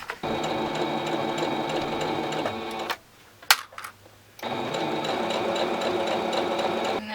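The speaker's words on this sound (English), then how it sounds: "now we're going to go ahead and just sew this" Close sewing machine running in a steady whir while stitching a pocket piece onto a handbag panel, pausing for about a second and a half with small handling clicks before resuming.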